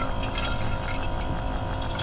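A small rechargeable electric pump draws water up through a tube from a Bisleri bottle, giving a steady close motor hum mixed with the rush of flowing water, continuous and without talk.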